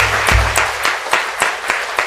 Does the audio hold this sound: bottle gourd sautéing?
no